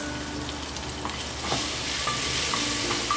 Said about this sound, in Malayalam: ഉള്ളി ചുവന്ന് വരുമ്പോൾ തക്കാളിയും പച്ചമുളകും കറിവേപ്പിലയും കൂടി ചേർത്ത് വഴറ്റി കൊടുക്കാം.